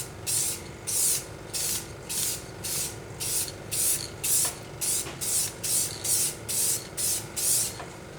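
Aerosol spray hissing in about thirteen short, regular bursts as a second light coat goes onto a car headlight during restoration, close and fairly loud with brief pauses between passes.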